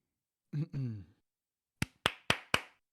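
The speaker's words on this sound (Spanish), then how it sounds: "Ya podéis aplaudir todo lo que queráis" Four sharp, close hand claps in quick succession, each a crisp isolated snap with a short tail, following a brief spoken sound and a pause in an otherwise quiet room.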